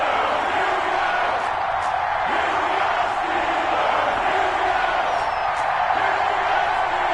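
A video-game stadium crowd roars at an NFL game between the Denver Broncos and Pittsburgh Steelers, a loud continuous wash of cheering and whooping with no break.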